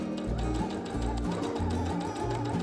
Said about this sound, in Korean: 끝이 너무 두꺼워서 수동으로 폴리를 돌려 조심조심 시작해줬어요.